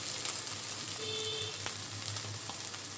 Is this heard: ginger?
yes